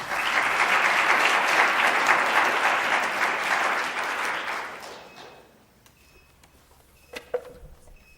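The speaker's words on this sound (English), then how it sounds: "I'm going to ask everybody to hold your applause until the very end" Audience at a public works committee hearing applauding a speaker: sustained, fairly loud clapping from a room full of people that fades out after about five seconds, leaving quiet room noise and a couple of faint knocks.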